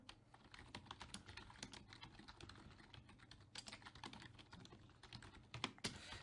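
Steady typing on a computer keyboard, rapid irregular key clicks running throughout at close range, with a few louder strokes near the end and no voices.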